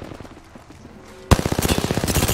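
Rapid automatic gunfire aimed at the player in a shooter game, bursting in loud and close after a quieter stretch, with a fast, even rattle of shots continuing to the end.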